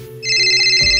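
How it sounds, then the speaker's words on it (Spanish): A mobile phone ringtone sounds alone at close range, its steady electronic tones holding on through the whole second, with a low thump near the end. "Ah, es el celular."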